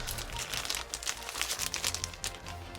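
A Beyblade Burst sticker sheet and instruction packet from a Takara Tomy set are opened, giving close, soft crinkling and rustling of plastic and paper in irregular bursts, with no talk.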